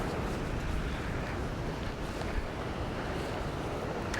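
Ocean waves surge onto the rocks at a Sydney rock-fishing spot, a continuous rushing wash of surf with broad churning noise and slight swells in intensity, no voices over it.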